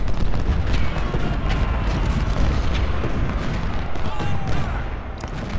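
Cannon artillery fire in the Civil War strategy game Ultimate General at the Battle of Gettysburg, a dense continuous rumble of booming volleys and distant gunfire, loud throughout, with a voice briefly under it.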